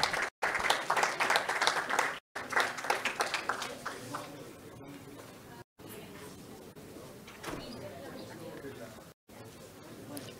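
Loud audience applause at a mining forum, dense clapping up front that thins and fades, with voices talking through the later part.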